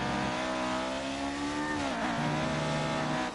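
A classic 1970s Lotus Formula 1 car engine roars in the F1 2018 video game, a loud, sustained high-revving whine that dips briefly with a gear shift before climbing again.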